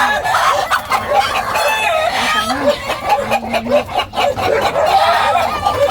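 Agitated clucking and squawking from several chickens close by, including a mother hen, continuous and busy, with a crow-like call mixed in.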